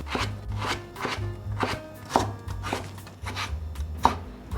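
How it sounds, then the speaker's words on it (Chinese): A knife cuts carrot into strips on a board, with about a dozen crisp, close chops in a steady, slightly uneven rhythm. "把红萝卜切片。 接着切条，"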